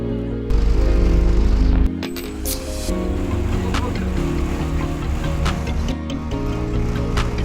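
A tourist boat's motor drones in a continuous low rumble while cruising on water in the Sundarbans, a loud close thump at first, then a steady engine hum with water wash.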